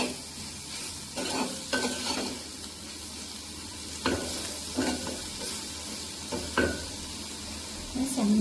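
Onions and spices sizzle steadily in a pan while being tempered for a salmon dish, with intermittent stirring scrapes and clinks over the constant frying hiss, no talking.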